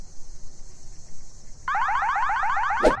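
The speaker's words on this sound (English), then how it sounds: "Why is the alarm going off?" An alarm goes off in a Minecraft bedroom scene at night: after a steady high tone, a loud, rapidly warbling electronic siren starts partway through and runs to the end, ending with a short burst.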